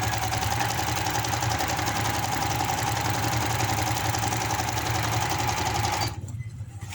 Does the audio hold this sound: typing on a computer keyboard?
no